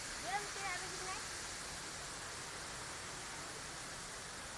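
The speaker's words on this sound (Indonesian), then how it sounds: "Itu air terjun nah. Air terjun." A waterfall in a Kuala Lumpur bird park rushes with a steady, dense hiss that fills the scene, while a voice speaks briefly over it at the very start.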